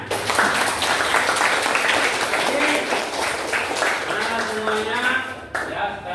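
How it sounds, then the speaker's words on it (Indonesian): Audience applause at a classroom teaching session on Islamic marriage law, a steady crowd of clapping hands under a voice that speaks over it toward the end. "sekali lagi kita beri tepuk tangannya"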